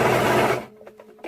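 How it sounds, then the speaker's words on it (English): Fabric feeds through a sewing machine running a zigzag stitch, giving a loud, fast mechanical whirring that stops abruptly after about half a second, followed by a few faint ticks and clicks. "make sure you use a zigzag stitch here. So I'm going to set my machine at the zigzag stitch"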